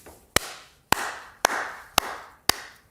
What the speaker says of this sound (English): The slow hand clap.